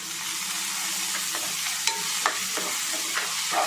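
Onion and tomato with mint and a green chili sautéing in a pan for a vermicelli biryani, a steady close sizzle broken by scattered scrapes and clicks of stirring, with no talking.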